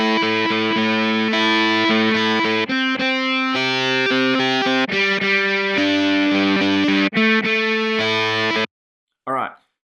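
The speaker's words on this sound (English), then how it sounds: "we're going to transform it into a really nice electric guitar" Heavily distorted electric guitar built from an Ableton sampled guitar chugs through a loud, driving riff of stabbed chords and short gaps, ending in sudden silence and a brief voice at the end.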